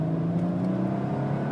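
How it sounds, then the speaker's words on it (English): A 1999 Mercedes CLK320 engine pulls under acceleration from inside the car, a steady droning hum with a rising steady tone and no speech. "I can give it some gas here"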